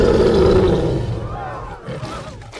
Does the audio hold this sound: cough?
no